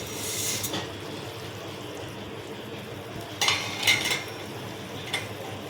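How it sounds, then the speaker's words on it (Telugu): Yippee instant noodles stirred in a hot pan for a Korean-style desi dish: a low, steady sizzle with clinks and scrapes of a utensil on the pan, bunched near the middle and end. "ఒకసారి అయితే దీన్ని మిక్స్ అయితే చేసేసుకుందాం యుప్పిని"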